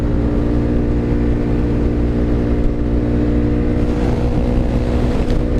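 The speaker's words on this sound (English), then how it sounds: "who says the DRZ can't handle the freeway" Suzuki DRZ dual-sport motorcycle cruising at freeway speed, a steady loud engine drone with heavy wind rush that holds constant throughout, no talking.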